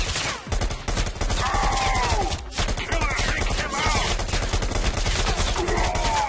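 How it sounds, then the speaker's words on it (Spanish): Rifle fire in the VR shooter Bullet Train VR, loud and close, a dense run of rapid shots with short pauses, backed by whooshing effects and a swooping high tone. "¡Oh! ¡Rifle!"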